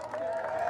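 Audience applause at a film festival evening, a steady wash of clapping from a crowd with a faint tonal hum running through it, brief and fairly even in level.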